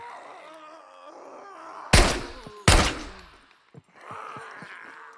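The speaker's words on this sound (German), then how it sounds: "Ja, Klaus, Auto schießen." Two sharp, loud gunshot blasts fired at a car in the video game SCUM ring out with echoing tails over a low game soundtrack, followed by a softer rattle of quick hits.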